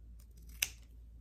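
Fabric scissors make a single quick snip through folded ribbon while a hair bow is being made, a short crisp cut standing alone against a quiet room background.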